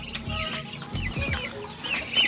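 Backyard pet chickens, young birds about 45 days old kept alongside ducks, cluck repeatedly at feeding time, close by and fairly loud, with bursts of clucking and rustling throughout.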